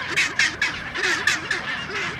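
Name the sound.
penguins squawking, donkey-like call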